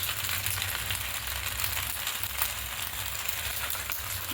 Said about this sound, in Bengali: এবার দেব টমেটো সস